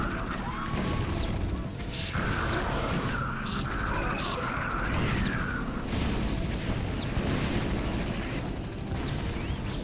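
Cannon fire and explosions crash and boom through a StarCraft battle, dense overlapping blasts and impacts layered under continuous game noise, loud and unbroken from start to finish.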